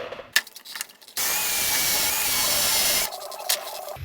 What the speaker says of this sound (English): I might as well just drill the thing out.